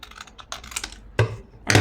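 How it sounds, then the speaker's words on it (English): Scissors cut through paper scraps close by, making a few short, crisp snips and crunches with brief pauses between them. "just going to cut it this way to the height"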